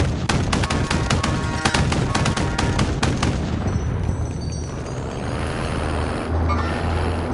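Bursts of .50 caliber machine gun fire in a PS4 shooter game, rapid loud repeating shots for about three seconds, then trailing off into rumbling ambience.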